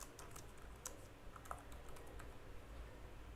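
Someone types a SQL select query on a computer keyboard, a quiet run of close, irregular key clicks and taps with no voice.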